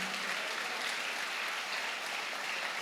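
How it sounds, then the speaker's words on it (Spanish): Steady applause from a church congregation praising during a Spanish-language sermon, a dense even patter of clapping that carries on without a break. "Alguien alaba a Jesús, aplauda al Rey de Gloria"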